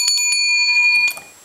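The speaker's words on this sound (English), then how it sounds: "perhaps the feature item are these small sheep bells" Small old sheep bells jingle in a few bright, clear metallic strikes close by, with sustained ringing tones that fade out, no voices.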